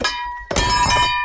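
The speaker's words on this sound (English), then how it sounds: "And drop the rim directly on the ground." A motorcycle wheel rim from a Shineray Cub 50 is dropped onto the ground, landing with a single loud metallic clank that rings out briefly and then fades.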